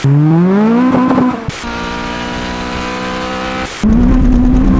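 A K24-swapped Honda Civic Type R FD2 engine revs loudly and close, rising in pitch, then drops to a strained high-pitched whine between bursts before revving up again.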